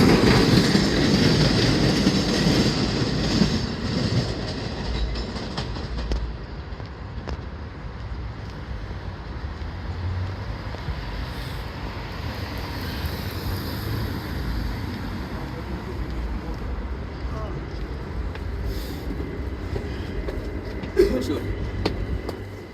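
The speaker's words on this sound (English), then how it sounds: "Another 7 train coming out of the tunnel." A New York City 7 subway train rumbles past steadily at Hunters Point Avenue station, coming out of the tunnel with a loud, broad roar, slowly fading as it pulls away, with brief talk and a faint clatter near the end.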